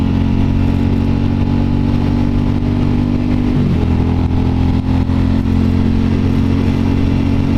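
A motorcycle without a quick shifter on a Pacific Coast Highway cruise gives a loud, steady engine drone up close, its pitch dipping partway through as the gear changes, then carrying on evenly with no talking.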